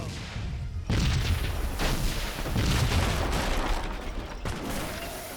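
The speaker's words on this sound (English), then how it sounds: "What do I hear exploding?" Rolling booms and blasts from a battle in Age of Empires 3 between British and French armies, with grenadiers and musketeers, sounding as a dense, continuous barrage of repeated explosions and gunfire that stays loud throughout.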